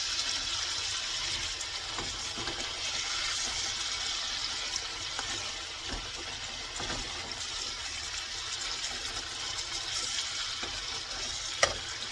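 Pork chops fry in a skillet with a loud, continuous sizzle and spatter close by, broken by a few sharp clicks and knocks of handling.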